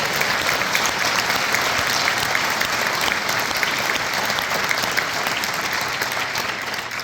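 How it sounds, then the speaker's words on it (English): Sustained, dense applause from an audience at an Indiana all-district honor band concert, honoring band directors and students, steady and loud throughout with no pauses. "let's give a round of applause for all of our band directors and their awesome students"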